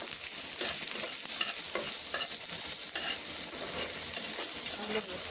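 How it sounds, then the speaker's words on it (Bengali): Onion and garlic frying in a pan for a red amaranth greens bharta, with a steady close sizzle and light stirring scrapes throughout, no talking. "এখন পেঁয়াজ রসুনটা আমি একটু ভেজে নেব।"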